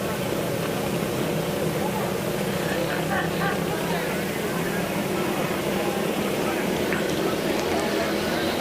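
Late model race car engines rev and roar together at the start at Speedrome, a dense, steady mechanical drone, with a voice talking over the noise.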